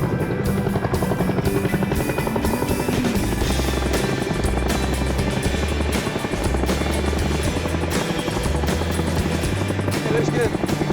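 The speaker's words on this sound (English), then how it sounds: "And another Chinook's ready for the combat zone." Chinook helicopter running at an airbase in Afghanistan, a loud continuous rotor thump and turbine roar that fills the whole stretch without letup.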